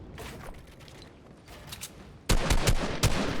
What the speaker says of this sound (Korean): 유일하게 총소리를 내고 있어요